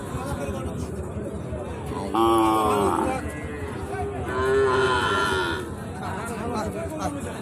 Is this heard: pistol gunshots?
no